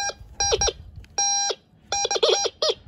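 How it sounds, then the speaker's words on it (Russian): A TX 850 metal detector gives several bursts of sharp, tonal electronic beeping over a buried coin in a garden, short pulses in quick groups separated by brief pauses. "Вот так пищит копеечка"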